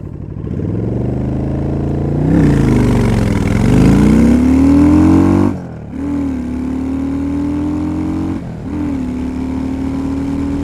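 A Honda Shadow 750 motorcycle pulls away and accelerates hard through the gears. The engine note rises and climbs steadily, with loud close revving and two brief dips at the gear changes, and no voices.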